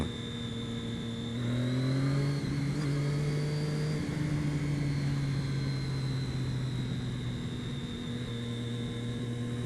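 A sport motorcycle engine, from a GSX-R 750 or Daytona 675, holds a high, whining rev with steady harmonic drone, briefly rising in pitch before settling, continuous and fairly close.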